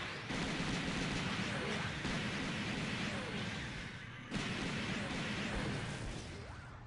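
The Arios Gundam Ascalon fires in SD Gundam Online, a dense and continuous roar of game weapon fire with a sharp fresh burst about midway through.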